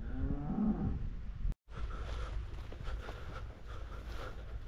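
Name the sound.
cow mooing in a field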